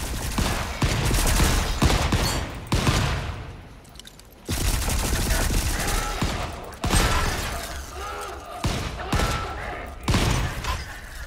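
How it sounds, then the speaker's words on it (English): Gunfire in the video game Volcanoids, dense loud bursts of shots and rapid volleys filling the clip with brief gaps between them. "That's me shooting at people."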